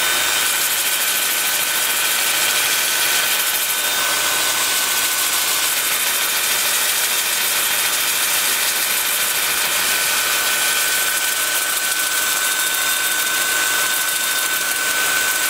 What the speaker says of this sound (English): then with the lathe spinning in reverse